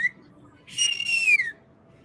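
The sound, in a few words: person whistling loudly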